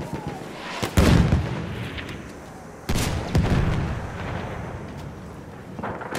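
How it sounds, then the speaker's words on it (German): Grenade explosions in Battlefield 1's wartime combat land in sharp, heavy booms, two big blasts a couple of seconds apart with rumbling debris after each, and further distant bangs around them. "Granate ist raus, Köpfe runter!"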